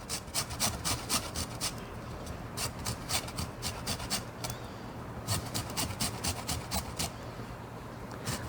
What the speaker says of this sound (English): I'm going to zest about a teaspoon of lemon in here.